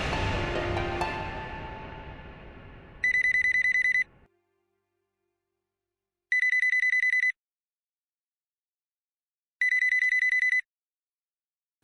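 A telephone rings in three evenly spaced electronic bursts, each about a second long and separated by silence, following a fading musical sting.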